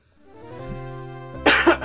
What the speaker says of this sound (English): I noticed that I have to clear my throat a lot